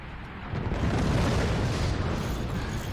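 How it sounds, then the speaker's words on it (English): Missiles slam into a ship in the game Forts, a loud sustained rumbling blast that swells after a brief moment and roars continuously without any voices. "Oh, they fired their missiles at us."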